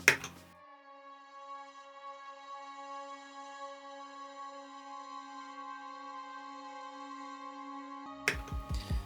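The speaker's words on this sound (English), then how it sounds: "I've added a synth pad throughout the whole song" A sustained synth pad and chorus synth from a home-made song hold a steady, rich chord with many bright overtones, swelling in softly and droning evenly for several seconds before busier music bursts in at the end.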